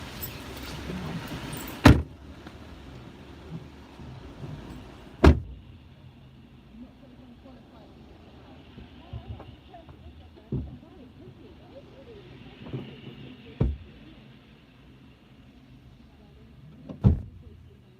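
A car boot is opened from inside a parked car: several sharp thuds and clunks, with a rising motor hum around five seconds and a loud latch clunk near seventeen seconds, all over a low interior rumble.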